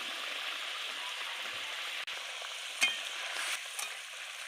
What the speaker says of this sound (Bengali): ঝোলটা রেডি করছে। মাছ ভাজি করে রেখেছিল, একটা একটা করে দিয়ে দিচ্ছে।